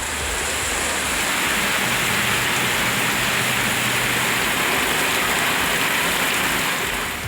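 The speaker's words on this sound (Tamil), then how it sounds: "திருமங்கலம் சுற்றுவட்டார பகுதிகளில் கனமழை பெய்தது." Heavy rain pouring down in the Thirumangalam area, a dense, unbroken hiss of downpour holding steady and loud throughout with no voices.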